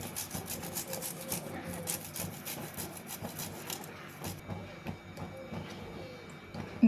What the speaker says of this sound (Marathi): आता दुधामध्ये थोडीशी केसर टाकायचं आहे आणि काजू खिसून घ्यायचा आहे।